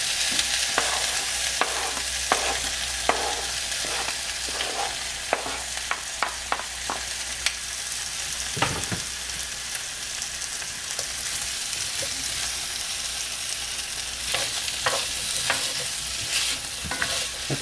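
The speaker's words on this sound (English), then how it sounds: "You're going to get a good sizzle on this." Home fried potatoes sizzle steadily in a hot pan while being stirred, with frequent sharp scraping and tapping strokes of the utensil against the pan over the continuous frying hiss.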